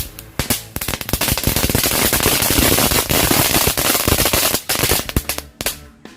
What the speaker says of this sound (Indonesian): yang selanjutnya kita nyalain mercon telur dinosaurus